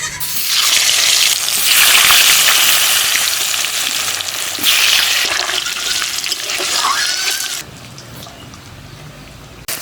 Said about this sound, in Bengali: আলুটা আমি ভেজে নিচ্ছি।